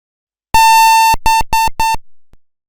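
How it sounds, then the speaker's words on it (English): A computer's POST error beep sequence signalling a video card problem: one long, loud electronic tone followed by three short beeps in quick succession, harsh and close with no talking. "you will generally hear a series of beeps which may sound something like this"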